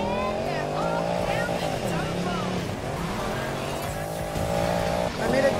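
Rally Porsche tearing off-road in the Need for Speed Payback video game, a steady loud engine drone with rising and falling revs and tire noise, under continuous talk.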